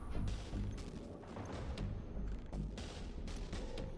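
Enemy ship bombs striking in the spaceship game FTL, a run of dull crashing impacts and blasts in quick, irregular succession, loud and close with no talking.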